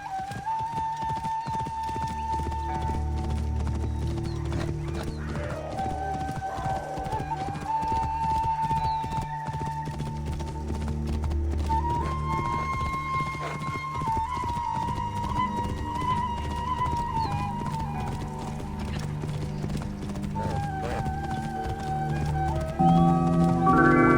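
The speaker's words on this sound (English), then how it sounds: "something about the sound of a horse's hooves in this game is really satisfying" A horse gallops in Assassin's Creed Origins: The Curse of the Pharaohs, its hooves clopping in a fast, steady, rhythmic beat close up for the whole stretch, with sustained tonal game music underneath and an occasional whinny.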